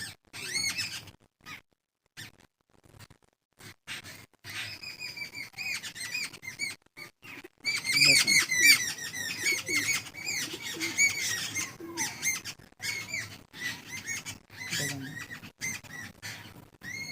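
Laalful and Kaldumma pigeon pairs at a home loft cooing and squawking with occasional wing flaps, close and fairly loud after a quieter, broken start, with no talk.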